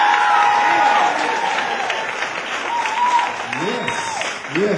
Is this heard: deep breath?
no